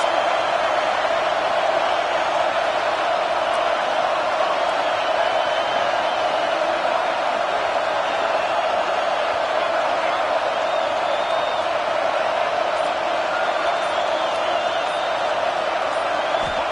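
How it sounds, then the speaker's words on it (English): A dense, steady roar of a large college football stadium crowd at an Alabama vs Clemson game, loud and unbroken, with faint whoops rising from the mass. "Listen to this crowd just shaking the girders of this place, trying to help their defense"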